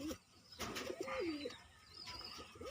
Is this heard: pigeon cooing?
yes